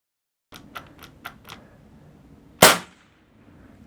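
A Crosman Legacy 1000 pump air rifle, pumped seven times, fires a pellet in one sharp, loud crack, preceded by several faint clicks from the trigger and action.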